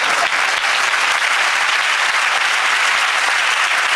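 Loud, sustained applause from a church congregation, dense continuous hand clapping with no talk over it.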